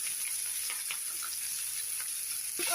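Chopped onions frying in hot oil with a bay leaf and whole garam masala give a quiet, steady sizzle with a few faint crackles and a soft stirring scrape at the end.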